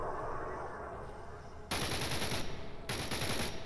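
Automatic AK rifle fire in S.T.A.L.K.E.R. Anomaly, loud and close, breaking out in a sustained burst after a quieter rumbling ambience, then briefly stopping before a second long burst.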